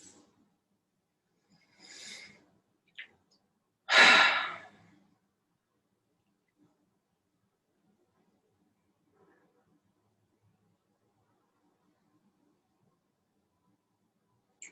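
Two quick, close nasal breaths during pranayama practice, a short one and then a stronger, louder rush of air, followed by near silence.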